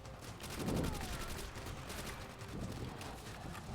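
Bursts of gunfire from the World War II shooter game Call of Duty: World at War crackle at a low level, with rapid repeated shots from weapons in the game.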